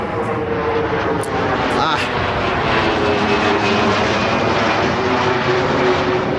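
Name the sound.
airplane flying overhead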